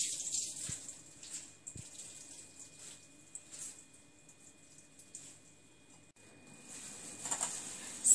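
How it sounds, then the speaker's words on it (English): Grated radish squeezed by hand to press out its water, giving a faint, soft trickle and patter in a quiet kitchen, with a few small knocks. "So you have to squeeze as much water as you can."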